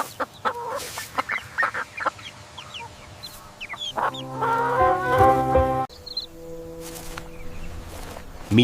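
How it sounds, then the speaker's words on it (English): A chicken clucks in short, irregular bursts, then breaks into a louder, drawn-out cackle before a few more scattered clucks, close by and alone without any talking. "This is a chicken."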